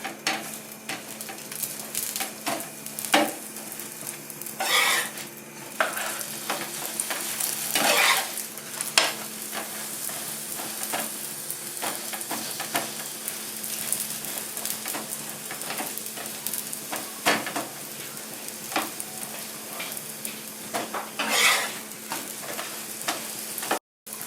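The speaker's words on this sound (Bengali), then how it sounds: "এরপর আমি সাদা তেল দিয়ে ভালো করে ভেজে নেবো" Lachha paratha frying in white oil gives a steady, close sizzle that runs through the whole stretch, with intermittent scraping and stirring sounds from the pan and no speech.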